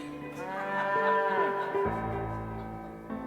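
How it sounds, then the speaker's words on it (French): A cow moos loudly and at length, a drawn-out bellow that rises and falls, heard alone and up close with no talk. "Pourquoi, la nuit, des passants entendent-ils la vache qui crie?"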